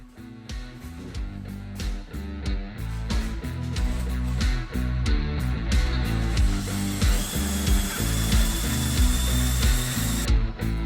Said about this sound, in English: To fit the mirrors, I will have to drill out